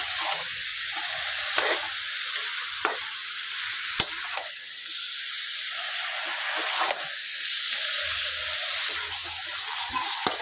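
Broiler chicken curry frying in a pan with chili and spices: a steady, fairly loud sizzle and hiss runs throughout, broken by occasional clicks and scraping stirs, with no speech.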